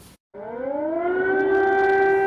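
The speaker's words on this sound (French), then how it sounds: "Les habitants de la capitale ukrainienne se sont réveillés au bruit des sirènes d'alerte aérienne." An air raid siren over Kyiv starts after a short gap and rises into a loud, steady wail that holds to the end, with no voices over it.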